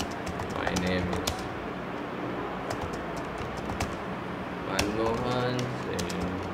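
Computer keyboard keys clatter in quick bursts while text is typed into an Excel spreadsheet, close and light, with someone talking over much of it.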